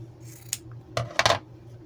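Scissors snip through fabric while cutting out rag doll legs, a few close, crisp cuts: one short snip, then a quicker cluster of two or three bites near the end over a quiet room hum.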